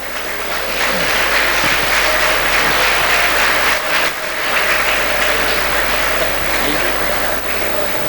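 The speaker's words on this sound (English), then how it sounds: "Big round of applause" A large audience at a medical felicitation ceremony applauds, dense steady clapping that holds for the whole stretch with only a slight dip midway, loud and close.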